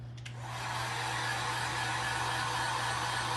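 A hair dryer switches on and blows steadily to dry paint on a frame, a close, constant whooshing hum with a steady motor tone that holds until the end.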